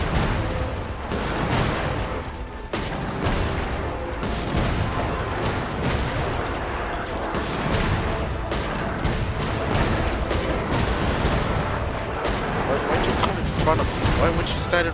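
Cannon fire and combat blasts in the video game Genshin Impact, a loud, busy run of repeated booming shots mixed with game music and effects that continues throughout, with a voice speaking over parts of it.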